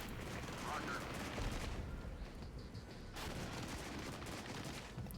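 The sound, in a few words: artillery bombardment in the video game Regiments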